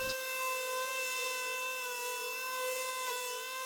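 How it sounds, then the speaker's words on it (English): A steady, high whirring drone of a power orbital sander with an 80-grit pad running continuously on rotten wood, with a constant tonal whine and even loudness throughout. "I'm now sanding them with an 80 grit pad and an orbital sander"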